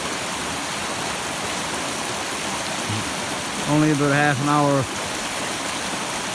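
A white water stream rushes steadily at a forest habitat restoration site, heard as a constant broad hiss of flowing water, with someone speaking briefly over it.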